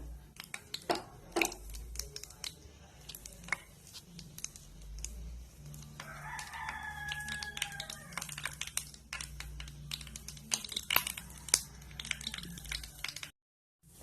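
Quiet, rapid, irregular crackles and pops of mustard seeds spluttering in hot oil for a kalan curry, heard up close, stopping abruptly at the end.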